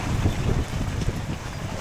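Strong wind from a storm buffets the microphone in gusty low rumbles, with a faint watery wash in the background.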